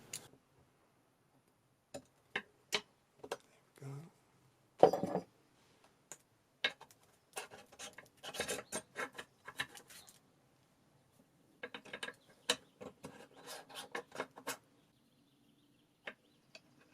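A homemade grain mill with splined rollers turning, giving sparse dry clicks and ticks in short irregular bursts with quiet gaps between them.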